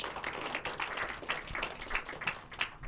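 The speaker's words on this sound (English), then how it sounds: "A big round of applause to our panel speakers." A conference audience claps for a panel of speakers, a moderate, somewhat thin round of applause with individual claps standing out in an uneven rhythm, heard from within a large room.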